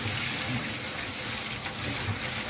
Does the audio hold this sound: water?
yes